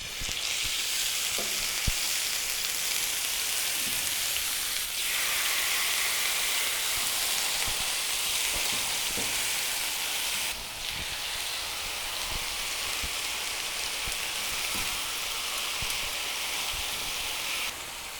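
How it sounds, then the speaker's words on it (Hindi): Marinated fish frying in oil on a tawa griddle, a dense, steady sizzle that crackles continuously throughout, close and even, with a few faint scrapes and ticks over the hiss. "अब हम इसको तवे पर फ्राई करेंगे।"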